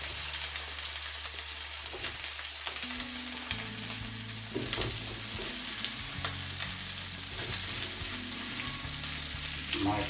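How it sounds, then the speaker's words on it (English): Potatoes frying in a pan of vegetable curry, a steady close crackling sizzle with stirring and scraping knocks throughout, bursts of hissing as the pieces are moved around. "Now I'm gonna put potato in there."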